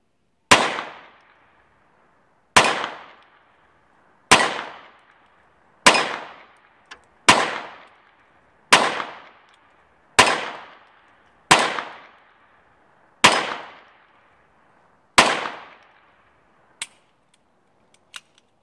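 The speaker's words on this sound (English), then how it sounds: "I'm going to take a few shots, and I'm not great at getting this on video." A P22 pistol fires about ten sharp, evenly spaced gunshots outdoors, each with a crisp crack and a short ringing decay, followed by a couple of faint clicks at the end; nearby and loud with no talking.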